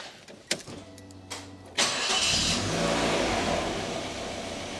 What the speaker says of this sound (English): we'll fire that up and just let it tick over